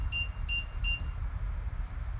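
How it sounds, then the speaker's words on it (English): Three short, high electronic beeps from a Philio PSK01 keypad in quick even succession, clear over a low steady background hum, then only the hum continues. "3 beeps and it's all synchronized"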